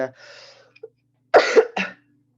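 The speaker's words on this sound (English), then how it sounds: "I hope my coughing will be better next week" Two or three sharp coughs close to the mic, preceded by a faint breathy throat sound.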